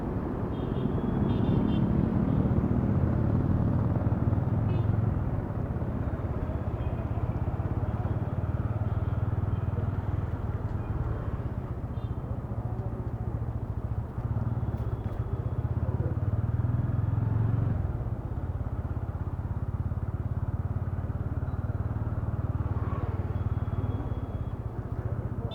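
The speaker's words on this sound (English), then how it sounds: "And the exhaust noise of the typical Royal Enfield bike." A Royal Enfield motorcycle's exhaust thumps in a steady low drone while being ridden, with wind noise over it and a few faint shifts in engine pitch across the ride.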